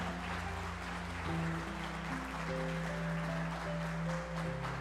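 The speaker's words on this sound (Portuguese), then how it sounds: "Vamos aplaudir o Senhor Jesus bem forte." A church congregation applauds Jesus loudly during a worship service, a broad wash of clapping held under sustained keyboard chords that shift steadily throughout.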